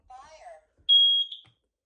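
A Kidde wireless smoke alarm plays a brief spoken voice announcement, then one loud, piercing electronic beep, heard close in an otherwise quiet room.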